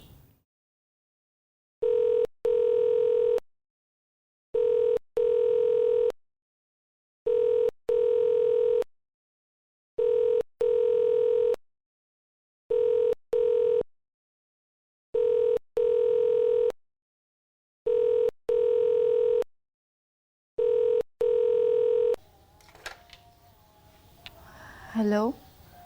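A telephone rings in a Hindi-language TV drama, with eight evenly spaced loud electronic ring bursts separated by silences, followed by a voice speaking.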